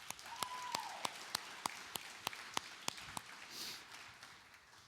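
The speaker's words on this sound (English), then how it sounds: "I think they need a round of applause as well." A church congregation gives volunteers a brief round of applause, a handful of spaced, distinct claps at a steady beat with a faint voice early on, fading out toward the end.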